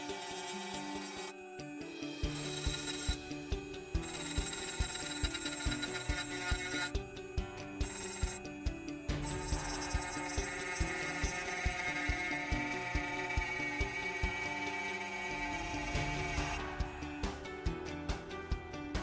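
A 2M2 Tank 2 Pro key cutting machine cuts a dimple key with a steady, loud mechanical whine and grinding that runs continuously, its tone shifting slightly as the cutter moves along the blank.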